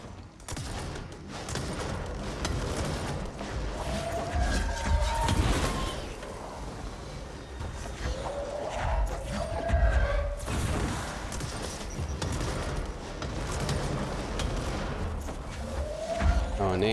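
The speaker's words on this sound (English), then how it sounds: "Grenades." Grenade explosions and bursts of gunfire in the action game Control, a dense, sustained barrage with booming impacts, with someone talking over it at times.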